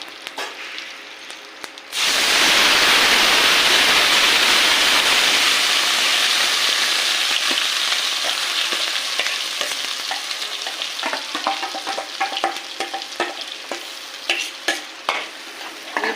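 A ground masala paste hits hot oil with shahi jeera in a pan, bursting into a loud, close sizzle that slowly settles as it is stirred, with scraping and clinks of the spoon toward the end.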